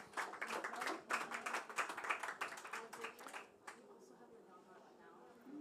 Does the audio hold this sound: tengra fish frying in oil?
no